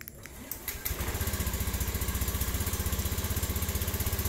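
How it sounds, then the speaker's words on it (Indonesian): A Honda Beat FI scooter engine catches after a brief start and settles into a steady, close idle with a fast, even pulsing throb that runs to the end with no talk. "untuk hidupkan motornya kita tekan yang di bawah ini dua kali"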